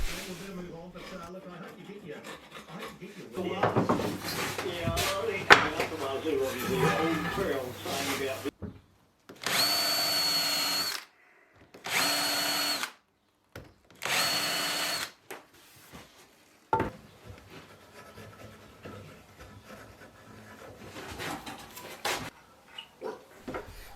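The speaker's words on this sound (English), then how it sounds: "by pre-drilling the holes in that I'll prevent any split out when putting the screws in" A power drill whirs in several short bursts with pauses between them, pre-drilling screw holes in wood for sawhorses, close by, with some talking and handling noise around them.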